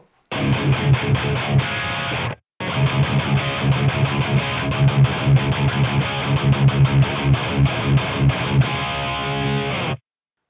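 Electric guitar through a Flamma FX150b multi-effects unit with the reverb switched off, sounding dry and mildly overdriven, playing steady rhythmic chords for about ten seconds with one brief pause early on.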